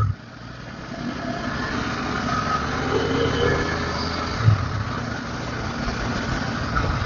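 A 2024 Bajaj Pulsar N250 motorcycle runs with a steady mid-pitched engine hum and a slight rise in revs, close and continuous, with no voices.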